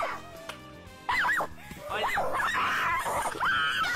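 A dog gives a string of high, rising yips and whining whimpers close by, mixed with a person talking and other background noise.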